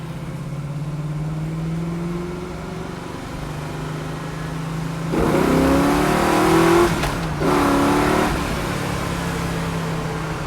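A 1968 Chevrolet Camaro SS V8 engine revs and accelerates hard, rising in pitch with a loud surge as the carburetor secondaries open, a brief gear change, then pulling strongly again, close and without talk.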